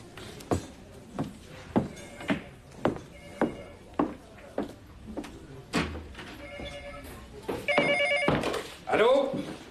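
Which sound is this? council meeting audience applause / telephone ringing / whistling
telephone ringing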